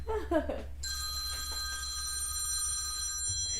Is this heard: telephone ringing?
yes